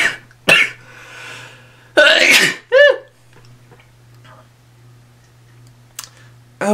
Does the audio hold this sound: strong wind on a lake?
no